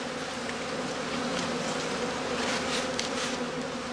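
A weak honeybee colony hums steadily inside an open straw skep in a heather-season apiary, a dense, even drone held close and unbroken from start to finish.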